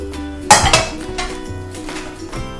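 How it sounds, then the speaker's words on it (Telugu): Boiled noodles go into a pan with teriyaki sauce for duck noodles, with a sharp metallic clatter of pan and utensils at the start, then softer scrapes and clinks nearby. "సో నూడిల్స్ వేసేస్తామండి ఇందులో, బాయిల్ అయిన నూడిల్స్"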